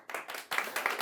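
Studio audience at a late-night comedy monologue cheering and clapping in dense bursts, the applause swelling twice in a short stretch, loud and close.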